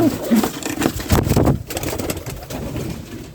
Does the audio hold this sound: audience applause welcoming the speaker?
no